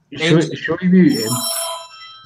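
A cell phone rings with a loud bell-style ringtone, a bright sustained metallic trill entering partway through and continuing to the end while people talk over it.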